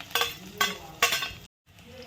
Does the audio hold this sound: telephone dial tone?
no